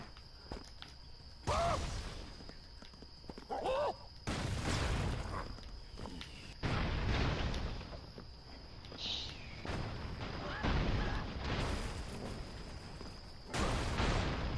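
Explosions and gunfire in a PS4 video game: bursts of blasts and shots recur through the stretch, with loud impacts around the midpoint and near the end over steady game background noise.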